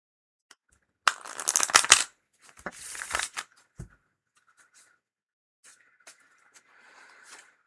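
A deck of tarot cards is shuffled in quick riffling bursts, two loud flurries followed by softer scattered flicks and light handling sounds, with no speech.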